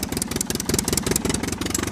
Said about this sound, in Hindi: देखो बच्चों, देखो सबसे पहला आता है KTM बाइक।